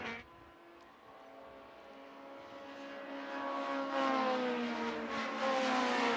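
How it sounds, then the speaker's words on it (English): A Honda Prelude Super Touring Lite race car engine, under 2 liters, revs steadily and builds louder with rising harmonic whine as the car races at an SCCA Runoffs event, with no voices heard. "Great engine note from these cars."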